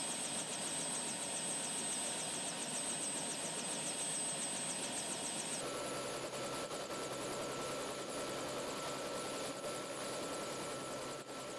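Helicopter with its rotor blades turning, running loud and steady close by for the whole stretch, with a continuous engine whine and rotor thrum that shifts tone partway through.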